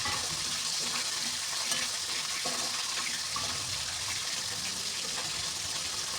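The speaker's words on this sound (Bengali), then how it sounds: "তো আমার মাছের এক পিঠ হয়ে গেছে, এখন আমি উল্টে নেব আর এমন লাল করে ভেজে নেব।" Fish frying in a wok as the pieces are turned over, a dense, steady hiss of hot oil throughout with faint scraping, no talking.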